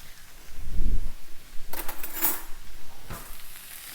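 Noodles for vegan pad thai stirred in a pan, with a low soft scrape early followed by metallic clinks and scraping of a utensil against the pan over a faint sizzle, no talk.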